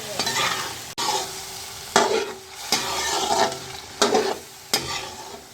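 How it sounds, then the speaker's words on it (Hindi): A spoon stirring yogurt into chicken Afghani karahi in a hot pan, rhythmic scraping strokes repeating roughly every second over a steady sizzle of frying, close and loud with no talking. "हमने दही डाल दिया। अब हम इसको मिक्स करेंगे।"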